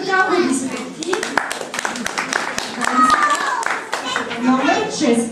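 Children clap in short, uneven bursts, sharp individual claps close by, mixed with kids' chatter and an adult voice talking throughout.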